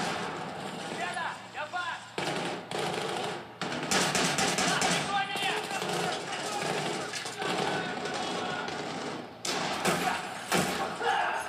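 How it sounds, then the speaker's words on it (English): Grenades burst in Battlefield 3 during a chaotic fight inside a Russian mansion: repeated heavy thuds and booms mixed with gunfire and clatter. A player talks excitedly over the loud, dense noise. "who's throwing all the grenades?"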